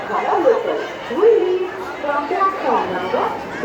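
Overlapping voices of a crowd packed into a Namkhana train, a steady close babble of chatter with a few louder individual voices rising above it.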